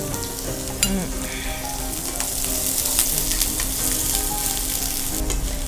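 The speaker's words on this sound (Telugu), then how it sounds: "ఉల్లిపాయలు ప్లస్ పచ్చిమిరపకాయలు వేసి" Chopped onions and green chillies fry in hot oil with a steady, close sizzle, plus a few scraping stirs and light clinks, and nobody speaks.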